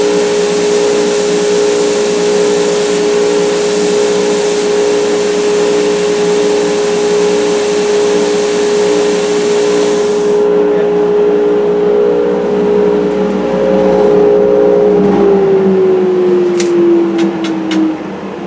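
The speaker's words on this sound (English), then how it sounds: "so I'm gonna finish up on the deadhead sander" A deadhead sander shapes a wooden guitar neck with a constant loud motor whine and abrasive rush, a steady tone that drops in pitch as the machine winds down near the end.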